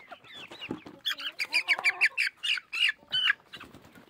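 A farmyard hen, kept among ducks and chicks, lets out a close, rapid run of clucks and sharp squawks in an uneven rhythm.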